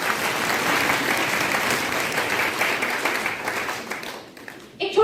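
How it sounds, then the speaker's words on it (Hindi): A room of new teacher-training students at an orientation applauds in strong, sustained clapping that fades toward the end before a voice begins speaking. "तो एक बार जोरदार तालियां आपके लिए।"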